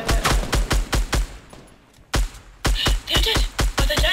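Rapid gunfire in the video game Fortnite Battle Royale, a loud run of evenly spaced shots with a short pause midway before the bursts resume, no talk heard.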